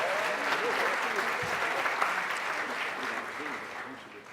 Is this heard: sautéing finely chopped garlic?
no